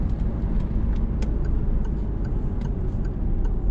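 A car engine pulls steadily under acceleration during a driving lesson, a continuous low rumble with a faint, regular ticking running over it and no talk.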